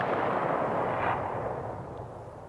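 A single .338 Lapua rifle shot in the shooter game Escape From Tarkov: one loud, broad crack and boom that rolls off into a long, slowly fading echo.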